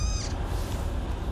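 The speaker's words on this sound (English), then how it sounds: "You got a little kitty, bro." A cat in the video game Nioh 2 lets out a short, high meow near the start, ringing over a steady low rumble of game background sound, with no talking.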